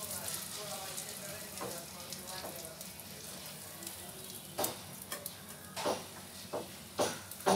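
Ghee-fried batter spread thin across a hot pan for a quick breakfast, sizzling steadily and close up, with a few sharper clinks of a spoon scraping toward the end.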